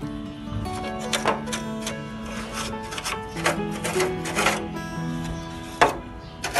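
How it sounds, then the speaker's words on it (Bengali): A brush sweeps dust and dirt off an object in quick, close, scratchy strokes, repeating unevenly against a humming background. "এখন আমি এটাকে একটু ব্রাশ করে পরিষ্কার করব।"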